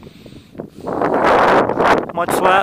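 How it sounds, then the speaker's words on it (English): Strong wind buffets an outdoor microphone beside a 2004 Fleetwood Bounder 35R motorhome in El Cajon, California, roaring in loud gusts while someone talks briefly at the start. "Might be a little windy. You might hear the wind in the video."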